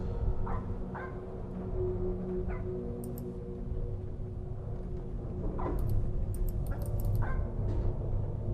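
Dog sounds in the tabletop horror game Home Safety Hotline: several short barks and yips come in scattered bursts over a steady low background hum, with a few thin high chirps mixed in.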